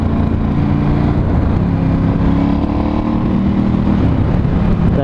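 A Ducati Scrambler 1100 Special motorcycle engine runs steadily with a deep, throbbing rumble, loud and close, with slight shifts in pitch as it pulls along and no talking over it.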